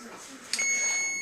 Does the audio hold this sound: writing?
no